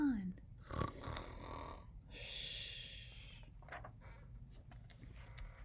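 A voice imitates a bear snoring, with a long rasping snore, a snort, then a drawn-out breathy inhale and a few softer snuffles, close and fairly loud with no words.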